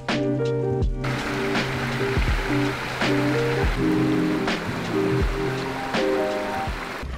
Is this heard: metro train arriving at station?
no